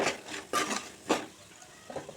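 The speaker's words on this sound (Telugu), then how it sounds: "ఇది కొంచెం ఆయిల్ ఇట్లా ఫ్రై అవ్వాలి." Chicken pickle frying in oil, stirred with a spoon in a pan, giving a few soft scraping strokes over a faint sizzle, quiet and close.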